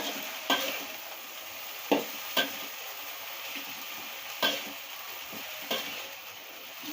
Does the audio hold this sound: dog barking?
no